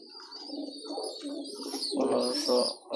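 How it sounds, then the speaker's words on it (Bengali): A racing pigeon coos in soft, repeated throaty rolls, fairly close, with a few faint chirps mixed in. "এটা হলো রেসার কবুতর"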